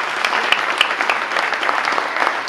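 Sustained audience applause fills a wine awards ceremony hall, the Catad'Or Ancestral Wine Awards, as a dense, steady wash of many hands clapping with a few sharper claps standing out.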